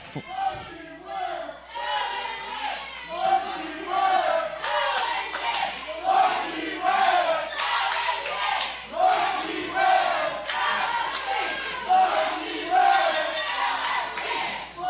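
A wrestling crowd is split between two competitors, with loud rhythmic dueling chants alternating from both sides of the arena, steady and energetic throughout with no pause.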